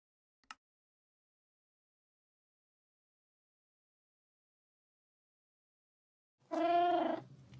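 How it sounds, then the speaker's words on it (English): A cat gives one clear meow, close and moderately loud, after a long quiet stretch broken only by a faint click, with no talking around it. "Thank you for the meow."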